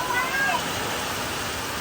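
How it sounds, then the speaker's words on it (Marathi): Heavy monsoon rain pours down at a village house in Konkan, a dense, steady roaring hiss that holds at an even loudness throughout with no pauses. "आवाज बघा मित्रांनो आवाज पावसाचा आणि फुल जोर पकडलाय"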